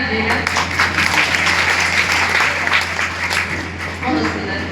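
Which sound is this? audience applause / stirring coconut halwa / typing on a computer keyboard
audience applause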